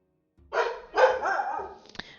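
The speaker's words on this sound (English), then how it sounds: "My dog has decided to make noise." A dog barks twice in quick succession, close and fairly loud, followed by a brief sharp yip, in an indoor setting.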